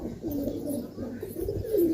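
Soft, low cooing of Madrasi pigeons while feeding, a steady murmuring burble that swells near the end, close by with no talk.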